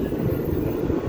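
A train rumbles past in a low, steady roar of rolling wheels and wind, continuous and fairly close, with no voices.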